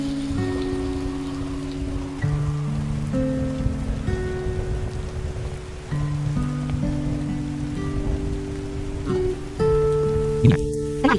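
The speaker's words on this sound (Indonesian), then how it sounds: "Sebentar lagi hujan." Steady rain falls on a surface throughout, a continuous wash mixed with tonal music-like layers and a brief sharp burst near the end.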